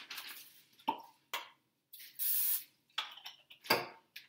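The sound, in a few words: cooking spray sprayed onto a pan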